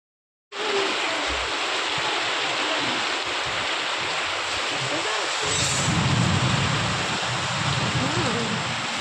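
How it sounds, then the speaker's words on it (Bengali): Heavy storm rain pours outside a house during a power cut, a loud and unbroken dense roar that starts abruptly and holds steady, with a low rumble swelling partway through. "বাইরে ভীষণ ঝড় বৃষ্টি শুরু হয়ে গেছে"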